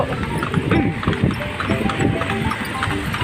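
Horse hooves clip-clop on a Manila street as a kalesa, a horse-drawn carriage, rolls toward the baywalk, a steady rhythmic clatter mixed with traffic and city background noise.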